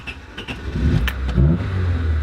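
A Honda car engine catches and settles into a steady idle with a slight rev, loud and close, with no talk over it.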